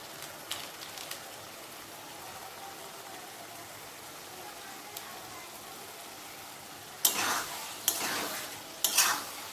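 Chana masala for chole fries in a pan with a low, steady sizzle, then a few louder bursts of stirring and scraping come near the end.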